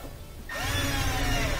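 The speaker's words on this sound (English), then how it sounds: "And we have two screws that go in that hold that on." A power drill driving a screw to secure the gas line on an LG gas dryer, a short whine that starts after a brief pause, rising in pitch and holding steady, loud and close.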